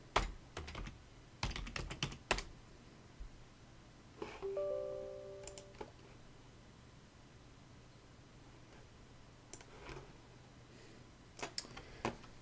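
Keystrokes on a computer keyboard while running a program for a Dell Optiplex 9010 BIOS update, irregular bursts of clicks separated by pauses, close and fairly faint, with a brief electronic tone in the middle.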